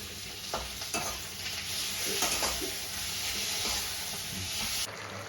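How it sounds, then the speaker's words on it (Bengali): Steady sizzling of garlic and spices frying in a hot pan, with occasional stirring scrapes cutting through the hiss. "রসুন দিয়ে কিছুক্ষণ ভাজলাম"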